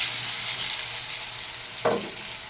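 Potatoes and soybean chunks fry in a pan with a bay leaf, giving a steady broadband sizzle across the whole stretch, with one brief scrape or stir near the end. No voices.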